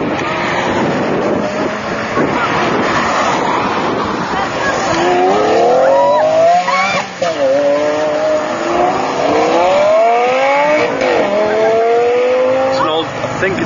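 Supercars including a Bugatti Veyron and a LaFerrari accelerating hard in a drag race, engines rising through repeated gear sweeps, close and loud, with someone talking over them throughout.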